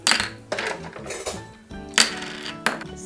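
Coins clatter and roll out of a colorful Fisher-Price toy cash register, several bright metallic jingles and bursts with a ring, close and clear with no talking.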